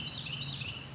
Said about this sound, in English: did y'all just hear that bird say yes, yes, yes?